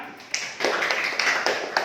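Elementary school classroom applause heard as a handful of separate, sharp claps in an uneven rhythm, fairly close and light, suggesting only a few children clapping briefly.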